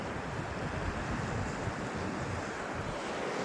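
Ocean waves break where a river meets the sea along the East African coast, a continuous broad wash of surf with wind rushing across the microphone, steady and fairly close.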